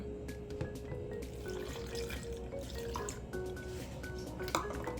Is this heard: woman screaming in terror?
no